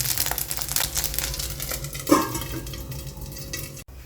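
Batter cooking in oil in a covered kadai gives a steady broadband sizzle with faint scraping, a brief louder clatter near the middle, and an abrupt drop near the end.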